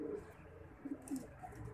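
Soft, low cooing of an Indian pigeon in a few short murmured phrases, fairly close, over a quiet background.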